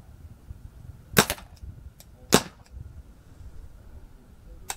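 Two sharp pistol shots from a Beretta 92 FS, about a second apart, with a few faint metallic clicks between and after, heard outdoors at moderate distance.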